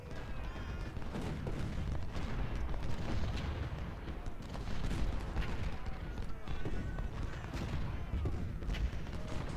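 6-pounder cannons firing in the Civil War game Ultimate General at Brandy Station, a steady battle din of repeated cannon booms mixed with crackling musketry, moderately loud and continuous with no single shot standing out.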